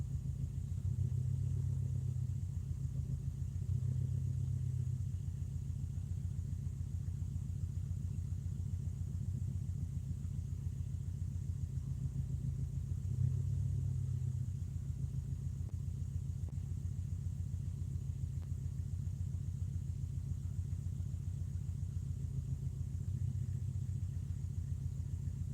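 A car engine held at a steady RPM gives a low, even, continuous rumble, close and moderately quiet, with a few faint periodic swells in the drone and no talking.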